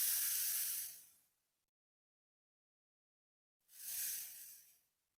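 Semolina batter hits an oiled frying pan with a loud hiss that fades over about a second, then after a silent gap a second sizzling burst swells and trails off.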